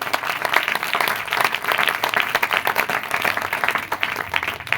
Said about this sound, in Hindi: तो जोरदार तालियां पाकरू के लिए